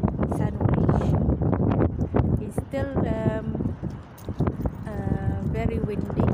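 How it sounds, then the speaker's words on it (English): Steady wind buffets the microphone, a broad rumbling roar under a voice talking throughout. "Very windy."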